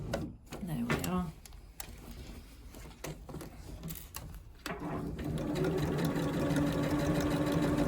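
A sewing machine stitching a seam on a jumpset, starting with short bursts and stops, then running in a steady fast whirring rhythm close by; a person talks during the pauses early on.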